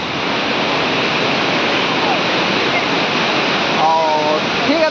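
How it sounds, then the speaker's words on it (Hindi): Sea waves roll in at the shore in Surat, a loud, dense wash of surf noise that holds steady throughout, with a voice speaking briefly near the end. "और वाह ये लहरें देखो, आवाज़ इसकी सुनो, आवाज़।"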